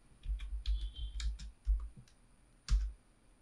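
A command is typed on a computer keyboard in a Windows terminal: a short run of close, crisp key clicks in an uneven rhythm, with a final firmer keystroke after a brief pause.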